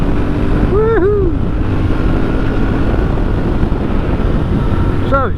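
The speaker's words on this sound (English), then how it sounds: "this is my first ride out this year" A Royal Enfield Interceptor 650 motorcycle on a ride through the countryside, its engine a steady low drone under heavy wind buffeting, with a brief rising whistle-like tone early on.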